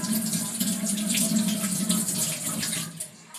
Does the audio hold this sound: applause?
no